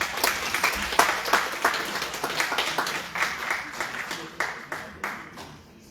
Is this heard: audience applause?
yes